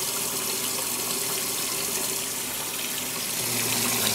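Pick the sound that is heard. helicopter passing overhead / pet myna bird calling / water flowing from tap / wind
water flowing from tap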